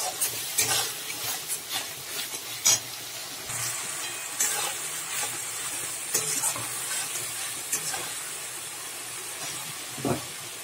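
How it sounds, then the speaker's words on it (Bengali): A spice masala of cumin, chilli powder and salt for an egg omelette curry sizzles in a pan, with repeated spatula scrapes and knocks over a continuous hissing fry. "এবারে ভালো করে কষিয়ে নেবো মশলাটা।"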